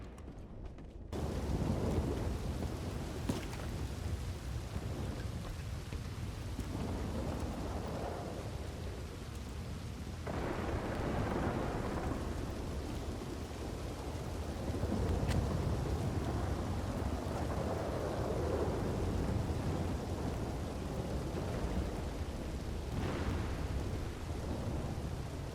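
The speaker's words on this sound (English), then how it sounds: "You can't even hear me with the storm." A heavy thunderstorm in the video game Red Dead Redemption 2 keeps up a constant roar of rain, with deep rolls of thunder rising and fading several times.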